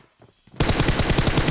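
Rapid automatic gunfire in BGMI bursts in abruptly after a near-silent moment, a loud, dense string of evenly spaced shots that runs to the end.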